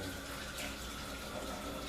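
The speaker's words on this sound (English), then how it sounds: "Can you imagine me running it under hot water right now?" Hot tap water runs steadily from a faucet, a continuous close hiss and splash of flow with no talking over it.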